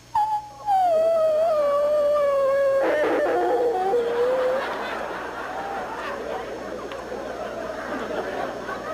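A voice imitates an old dog's hoarse, howling bark: one drawn-out wavering call followed by laughter and chatter from an audience at a stand-up comedy show.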